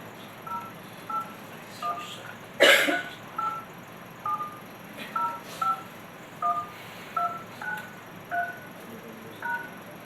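Push-button telephone dialing a number during a prize draw announcement: a steady run of about a dozen short two-tone DTMF beeps, evenly spaced, with one brief loud burst of noise early on.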